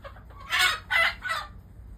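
A chicken gives three loud, close clucking calls in quick succession, each a short bright burst with brief gaps between, heard alone against faint background noise.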